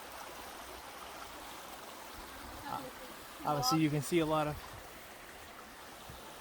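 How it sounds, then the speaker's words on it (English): A river runs alongside a rugged trail at Hillsborough River State Park, giving a steady soft rush of flowing water throughout, with a voice talking briefly over it midway. "Now we're right here along the river."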